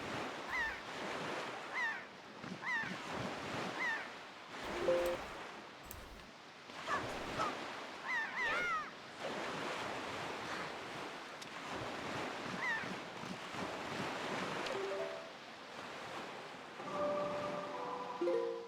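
Ocean waves surge and wash in a loud, continuous roll in The Legend of Zelda video game, broken by short chimes and tonal blips from the game.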